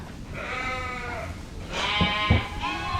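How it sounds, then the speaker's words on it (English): Weaned lambs bleat several times in a pen, their cries overlapping and rising louder toward the end, close by with no talking. "Here's all the weaned lambs."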